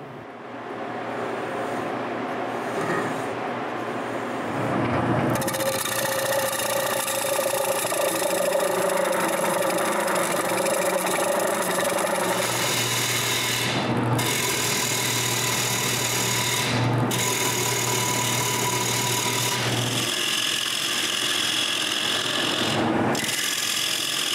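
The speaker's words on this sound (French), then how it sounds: "avec un compas, je mesure la grosseur d'une lame, je marque la grosseur que je veux pour le trou de l'assiette, et j'enlève le bois au centre" A wooden plate is hollowed on a lathe, with a steady rough scraping and rasping of the tool cutting wood over a constant motor hum, broken by several short pauses, close and loud with no talking.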